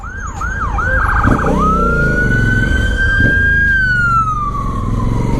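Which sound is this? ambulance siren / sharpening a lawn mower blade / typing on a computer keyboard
ambulance siren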